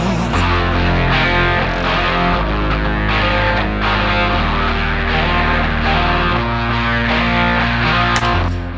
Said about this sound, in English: Paul and I worked on the little guitar break,